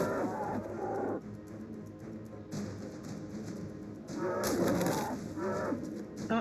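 Birds call in the survival video game Ark, a cooing, dove-like sound repeated a few times over a steady game ambience, fairly close and moderately loud with no speech.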